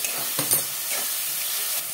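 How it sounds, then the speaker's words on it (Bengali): Masala with chopped tomato, salt and a little water sautéed in a pan sizzles and hisses continuously, with a few soft scraping stirs near the start; no talking. "মশলাটাকে কষতে হবে"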